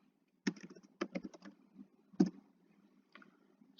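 Close, crisp keystrokes on a computer keyboard as code is entered in Mathematica, coming in short bursts with brief pauses between them in an otherwise quiet room, with no voices.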